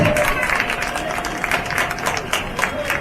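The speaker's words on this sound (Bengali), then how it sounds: "উত্তরীয় পড়িয়ে জোরে করতালি হয়ে যাক" A crowd claps at a Durga Puja inauguration ceremony in Dum Dum Park, Kolkata, with dense, steady applause close by for several seconds and voices mixed in beneath.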